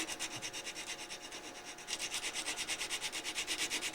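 Sandpaper worked by hand over a small wooden ornament, producing close, fast, even back-and-forth rubbing strokes that grow a little louder midway and continue steadily to the end, with no voices.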